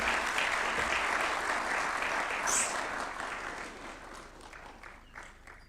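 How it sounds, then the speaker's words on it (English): A State House audience gives Professor Michael Chege a round of applause: thick, continuous clapping that stays strong at first, then gradually thins and softens toward the end. "Another round of applause for Professor Michael Chege."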